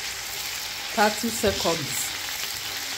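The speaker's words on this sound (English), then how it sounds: "Then we are frying the onions for about" Onions sizzle steadily in hot oil for Nigerian stew, a constant hiss with a brief spoken phrase over it.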